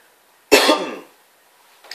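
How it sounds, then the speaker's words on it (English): A single harsh cough burst fading into a throaty clearing rasp, close and alone in a quiet room at a Hwacheon ice fishing festival, followed by a faint second onset at the very end. "I started coughing and clearing my throat a bit"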